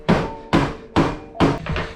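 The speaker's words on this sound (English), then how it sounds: "Then we get my favorite tool, the hammer, and let's hit it out." Four sharp metallic hammer strikes ring out at a steady pace, knocking a brake disc out of a Tony Kart Rotax Max 125 go-kart during cleaning, close and loud with brief decaying rings between blows.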